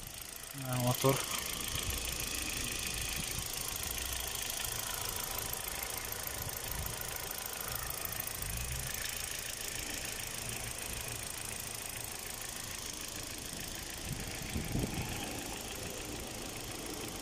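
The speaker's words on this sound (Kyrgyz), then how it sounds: "Мотор" A taxi car's engine idles in Moscow, giving a constant, close mechanical rumble with a faint knock that lasts throughout, while a voice speaks over it now and then.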